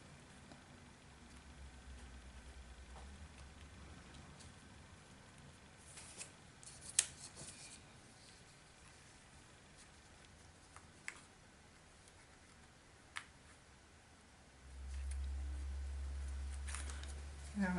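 Scissors snip paper leaves for a layered handmade card, a few sharp isolated cuts scattered over a quiet room tone, ending in a steady low hum.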